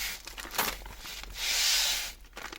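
A plastic bag holding a CAT tourniquet crinkles and rustles up close, with irregular crackles followed by a longer, louder scrunching burst, and no talk over it.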